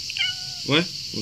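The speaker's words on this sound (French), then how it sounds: "Voilà, donc ça c'est mon chat." A pet cat gives a couple of short meows, close and clear, alongside brief speech from a man at a fishing-lure assembly bench.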